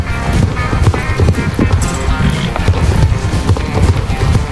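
Horse hooves galloping in the Star Stable Online video game, a steady rapid clip-clop rhythm that carries loudly through the whole stretch, with game sounds layered around it.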